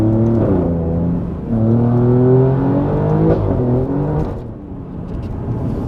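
An Alfa Romeo Giulia Quadrifoglio accelerates hard from inside the cabin, its engine note rising in strong pitch sweeps through the gears, with a short dip at a shift before climbing again, loud and continuous.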